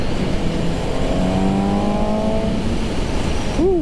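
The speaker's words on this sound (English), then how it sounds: "that air intake sounds good" A Suzuki GSX-S750 motorcycle engine roars steadily up close with loud air intake noise, its pitch climbing as it accelerates, with a brief tonal whine at the end.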